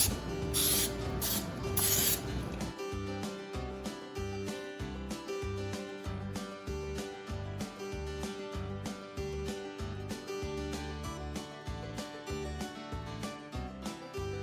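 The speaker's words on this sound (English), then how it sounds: "we're going to spray them down with some coconut oil" Coconut oil sprayed into cake pans, a few short hissing bursts of spray at the start, then quieter repeated rubbing and tapping under soft background music.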